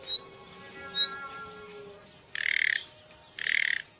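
Two bursts of harsh, buzzy alarm calls from a bird at a pool where a red Milos viper approaches, each lasting about half a second, following a couple of short chirps over a faint, steady background of birdsong.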